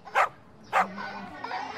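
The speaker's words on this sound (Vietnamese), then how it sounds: "chó này của mình nó còn sủa được đấy các bạn ơi" A plush toy dog gives two short, high, electronic yapping barks close by, followed by a faint whirring sound.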